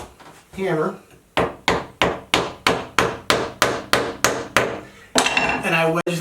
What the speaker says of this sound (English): And then I take a little hammer